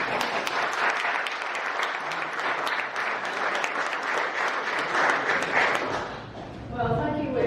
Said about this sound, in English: a warm round of applause please for Lois.